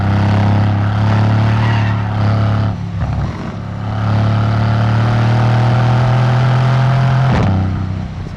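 Mercedes-AMG C63 S V8 engine droning loudly from inside the car at steady speed, a deep continuous hum with brief dips where the pitch shifts, heard alone without speech.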